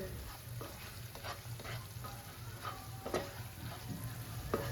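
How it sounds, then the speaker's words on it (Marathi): Spices for soybean bhurji fry in hot oil, a steady sizzle with scattered crackles and spoon stirring scrapes throughout, close and fairly quiet, with no talking. "सगळे मसाले तेलात छान परतून घ्यायचे आहेत"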